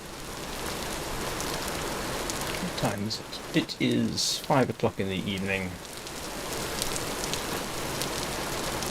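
Steady rain falls across a Vintage Story game world, a continuous hiss holding from start to finish while a voice speaks over it in the middle.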